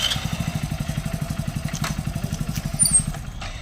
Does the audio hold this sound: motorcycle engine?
yes